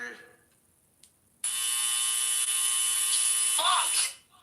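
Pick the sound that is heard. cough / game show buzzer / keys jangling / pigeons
game show buzzer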